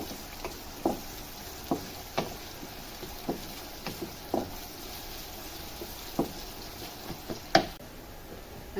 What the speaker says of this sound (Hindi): तेल में अब हम ये अदरक लहसुन डाल देंगे, और इनको हमें थोड़ा सा सौते करना है।